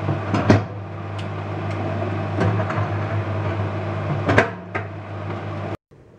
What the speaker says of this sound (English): That is one unhappy microwave.